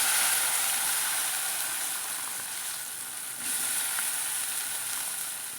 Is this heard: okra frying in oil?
yes